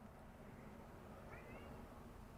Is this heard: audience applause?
no